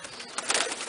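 Racing pigeons in a crowded loft give soft, brief cooing, close and moderately loud over a busy background rustle of birds.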